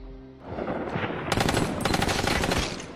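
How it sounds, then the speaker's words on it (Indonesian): Rapid machine gun bursts fire in a film action scene as a car crashes and a group opens up on the driver, loud dense volleys of gunfire after a brief low rumble. "ia diberondong tembakan oleh kelompok Charlie"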